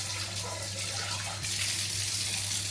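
Tap water running in a bathroom while dishes are washed there in a small room in Vietnam: a steady, close rush of flowing water that grows slightly louder and brighter halfway through, with no voices.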